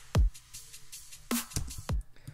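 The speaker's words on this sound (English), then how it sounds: "So I have a drum loop here and it sounds like this." A sparse drum pattern: deep kick hits, a sharp snare crack and a second kick, with light hat ticks between, played cleanly without voices.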